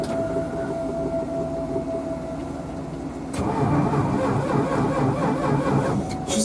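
An old vehicle's engine cranks over a steady background rumble, then catches with a sudden louder roar and keeps running rough and close during a cold power outage in central Idaho.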